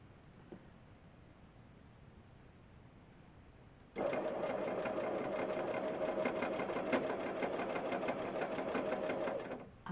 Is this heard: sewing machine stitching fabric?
yes